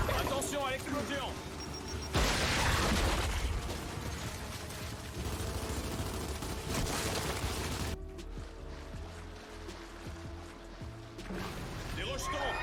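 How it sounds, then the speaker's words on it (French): Explosion in a video game: a loud crashing blast with clattering, mechanical debris that rumbles on for several seconds, then a quieter stretch, with a voice speaking over parts of it. "Attention à l'explosion!"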